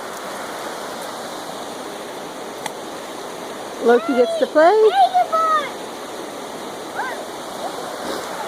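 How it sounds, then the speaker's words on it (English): A creek flows steadily along an off-road trail, a constant broadband rush of water, while a voice speaks briefly over it partway through. "Beautiful creek."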